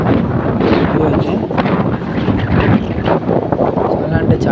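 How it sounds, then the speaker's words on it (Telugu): Strong wind buffets the microphone at a hilltop viewpoint on Ballari Fort, a steady loud rushing roar filling the whole clip, with light drizzle in the air. "చాలా గాలి వేస్తుంది"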